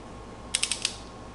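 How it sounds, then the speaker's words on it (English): Torque wrench tightening oil pump bolts on a 1969 Camaro, four quick ratchet clicks in a tight burst, close and crisp against quiet background. "So I have been going back and running over everything with the torque wrench."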